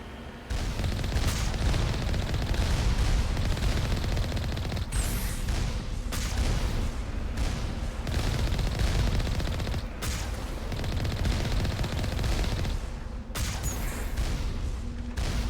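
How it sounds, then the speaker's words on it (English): Sustained gunfire from turrets under attack in the Mass Effect video game, a loud, continuous barrage of rapid shots and booms with brief dips, no talking. "Why are we shooting our own turrets?"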